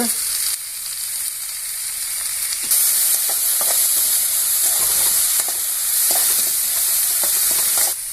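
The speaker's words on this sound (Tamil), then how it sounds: "இப்போ வேலிப்பருத்திக்காய் நம்ம வேவிச்சு வச்சுருந்து இப்போ போடுறோம் நல்லா போட்டு நல்லா வதக்கணும்" Boiled velipparuthi pods sautéed in a pan with turmeric and salt, a loud near sizzle with steady stirring scrapes across the whole stretch, no talking.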